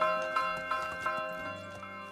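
A bell in the medieval village game Medieval Dynasty rings out several times in a steady rhythm, bright and ringing with a sustained hum between strikes.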